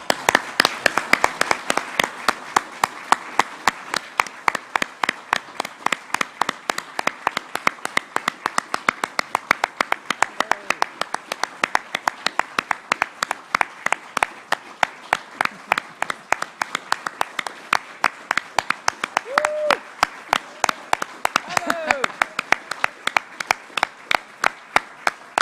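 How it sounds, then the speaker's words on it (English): An Australia Day celebration crowd in Ballina Shire claps steadily for about a minute, a sustained rhythmic wash of many hands with distinct sharp claps standing out near the front, and a few brief voices rising faintly underneath. "I want to ask you guys to join with me for a minute of continued applause for those people."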